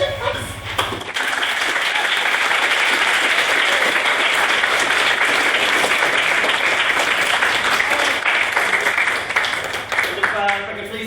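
Sustained, loud audience applause and clapping fill a debate hall after a maiden speech, a dense wash of hands that swells after a brief pause and fades near the end as a voice begins talking.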